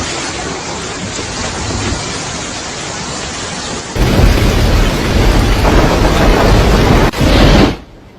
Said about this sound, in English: heavy rain fell continuously in many places